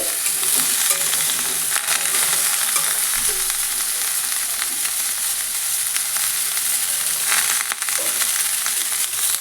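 Tender sweet pumpkin frying in a pan over heat, a loud continuous sizzle with occasional stirring scrapes and clinks, close and steady with no voices.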